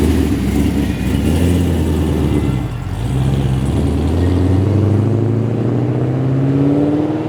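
A Holden SS leaving a car show at Penrith gives a deep, loud engine burble, rumbling close by, dipping briefly, then revving into a rising, throaty acceleration.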